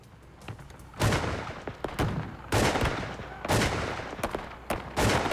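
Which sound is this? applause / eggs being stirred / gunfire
gunfire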